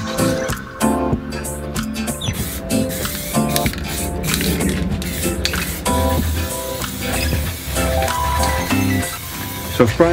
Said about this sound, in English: then with a spray filler